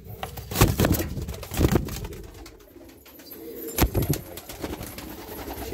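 Pigeons coo softly nearby, with a few sharp knocks and rustles scattered among the low murmuring calls.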